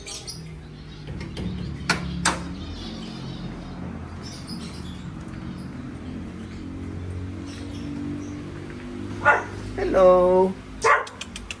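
A dog barks a few times near the end, loud and close, after a stretch of people chatting at a house.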